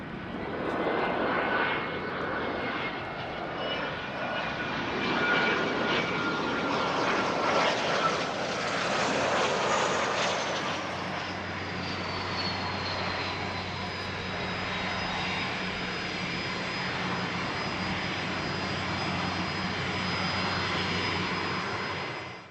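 An aircraft lands on wet Runway 16R at Van Nuys in the rain. A loud jet engine roar builds and peaks, then settles into a steadier whine and hum as the plane rolls out, with no speech.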